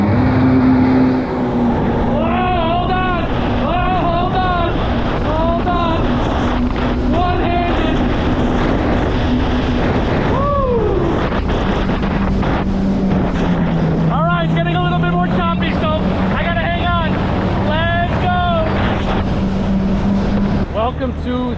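A jet ski races at speed across Tampa Bay, its engine a steady loud drone with rising and falling whines as it accelerates, buffeted by wind noise over the microphone.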